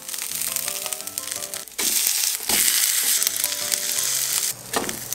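Rice buns brushed with soy sauce sizzle loudly in a pan, a continuous frying hiss that swells and dips with a few scraping touches, over background music and without talk.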